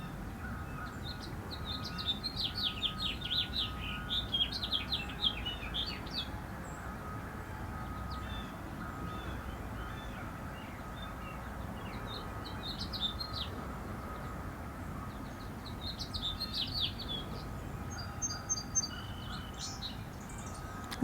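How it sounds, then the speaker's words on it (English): Birds sing outdoors around a deck in scattered bursts of high chirps and trills, fairly faint and distant over a low steady ambient rumble, with no talking. "Let's just enjoy the bird song for a couple more breaths here."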